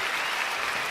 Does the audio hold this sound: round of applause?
yes